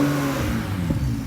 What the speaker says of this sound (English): Whenever I release the throttle, it like the engine cuts off, then cuts back on.